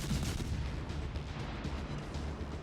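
Heavy naval guns roar from warships in World of Warships Legends, a dense, continuous low rumble of distant cannon fire and booming shells rolling on without pause, loud and steady with no voices.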